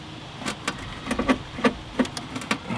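A 1967 VW Beetle engine cranks unevenly, giving a series of irregular sharp puffs and knocks spaced a fraction of a second apart, fairly faint and rough-sounding, with no talking over it.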